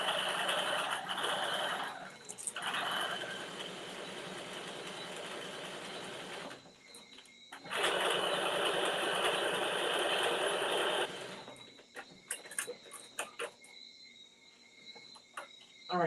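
A sewing machine bastes a facing piece onto a garment, stitching in fast, steady whirring bursts of several seconds with short pauses between them. A brief stretch of clicking and handling noise follows at the end.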